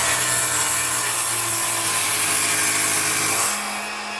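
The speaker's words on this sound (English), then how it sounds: "I'm doing this with a circle saw because I'm that safe" A circular saw cuts through the leg of a simple wooden stool made from scrap wood, a loud, steady rasping whine held for about three and a half seconds before the blade bites free and the motor drops to a lower idle hum.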